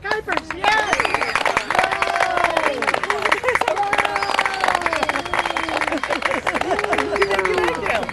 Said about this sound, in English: I want to have a big round of applause for Janet Kuypers